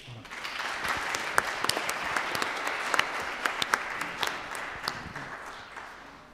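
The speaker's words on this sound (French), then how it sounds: "On peut les applaudir." A church congregation at an Easter-season Mass claps for the newly baptized, a steady, moderately distant roll of many hands with scattered sharper claps standing out, fading slightly toward the end.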